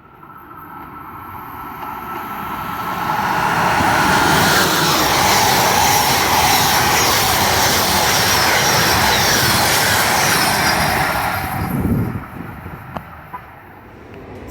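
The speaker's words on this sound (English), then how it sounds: "Amtrak trains, including Northeast Regional and Acela trains, will continue to blow by their stations without slowing down" An Amtrak passenger train roars through a station without slowing, building from a distant rumble to a loud, sustained rush, then fading away with a few faint clanks.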